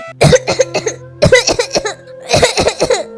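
A woman coughs loudly and close by from inside a house in a Bengali cartoon. There are three harsh fits of rapid, hacking coughs, each with several bursts, and short breaths between them.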